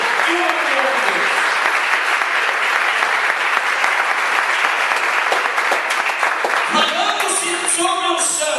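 A church congregation applauds loudly and steadily, a dense wash of clapping that fills the room and continues for several seconds, with a voice and music coming in near the end.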